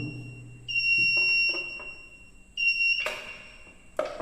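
A generator changeover switch's shrill electronic buzzer alarm switches on and off in short stretches as the handle moves between generator and mains, interrupted by clicks and clunks of switching.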